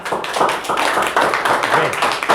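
Brief round of clapping for a Grade 10 student presenter at a school presentation, uneven claps from a modest group with some voices mixed in.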